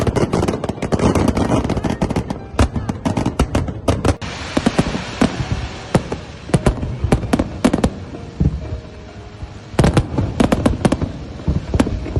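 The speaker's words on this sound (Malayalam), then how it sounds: "അസാധ്യ ഫയർ വർക്ക് ആയിരുന്നു കേട്ടോ" Fireworks display celebrating Saudi National Day, with dense volleys of sharp bursts and crackling reports, loud and near, coming in long rapid clusters broken by brief lulls.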